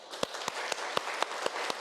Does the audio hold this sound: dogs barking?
no